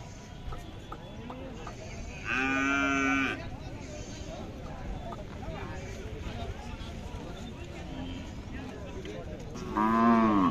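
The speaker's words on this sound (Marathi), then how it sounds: "पाहू शकता खिल्लार गाय." A Khillar cow moos loudly twice at a crowded cattle market, with one long low call early and another near the end, while people talk nearby throughout.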